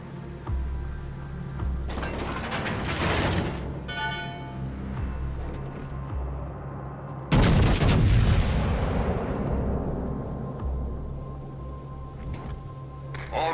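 Naval gunfire in World of Warships: Legends, with loud booming artillery salvos over a rumbling battle soundscape and a heavy blast near the middle that trails off into lingering rumble.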